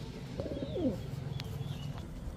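Pigeons give soft, low cooing calls at a bird seller's, faint and somewhat distant, a short rolling phrase followed by quieter murmurs over light background noise.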